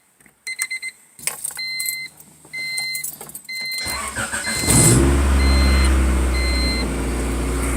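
A 1994 Honda Del Sol SI idling with its engine running, a steady low rumble that swells louder after a few seconds, while a repeating electronic chime beeps at a regular rhythm in the cabin.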